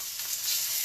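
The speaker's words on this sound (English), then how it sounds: "So we're going to let these guys sizzle." Chicken pieces searing in a hot pan give a bright, steady sizzle, close and continuous for a brief moment with no talking.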